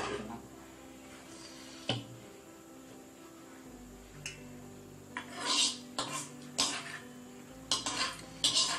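Ragi rice cooking with bottle gourd in a pot, stirred with a spoon that clinks and scrapes against the metal in irregular bursts, growing busier toward the end over a low steady background hum.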